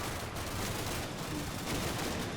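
Gunfire in the Combat Mission: Blood on the Snow video game, soldiers taking pot shots: a dense, continuous crackle of many shots overlapping at a steady moderate loudness, with no voices.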